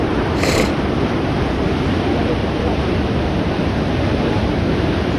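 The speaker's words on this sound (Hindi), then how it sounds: "लगातार पानी इस पर टकरा रहा है" Floodwater from the Beas and Parvati rivers after a cloudburst crashes against a building, roaring in a loud, unbroken rush close by, a steady churning wash with no pauses.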